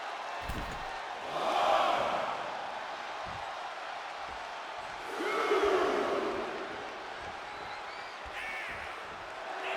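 A virtual wrestling arena crowd in WWE 2K25 gives a murmuring din that swells into two louder waves of cheering, with thuds from the ring underneath.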